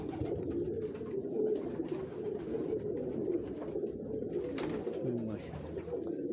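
Salare pigeons with black outer feathers coo on a Lahore rooftop, giving a low, continuous, throaty burble from several birds at close range, with a little faint background noise.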